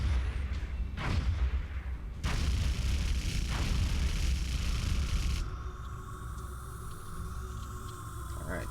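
Gunfire and booms erupt as an interceptor shoots down a UFO in a video game, a few heavy blasts and bursts in the first seconds fading into a lingering low rumble and faint electronic tones.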